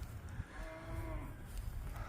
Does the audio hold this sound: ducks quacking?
no